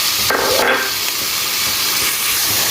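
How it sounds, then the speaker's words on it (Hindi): Garlic-ginger paste hitting hot oil with cumin, a loud close hiss and sizzle with a couple of sharp bursts at the start, then a steady frying crackle. "थोड़ी देर ज़ीरे को करने के बाद हम इसमें लहसुन अदरक का पेस्ट डालेंगे"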